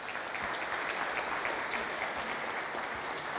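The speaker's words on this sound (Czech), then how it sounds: "A velký potlesk pro Urzu, poprosím." An audience applauds after a talk at a conference: a steady, even wash of many hands clapping, moderately distant and sustained throughout with no break.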